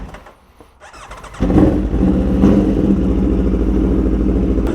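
An Aprilia motorcycle engine suddenly revs up loud and close after a quiet start, then holds a steady, rough roar as the bike pulls away.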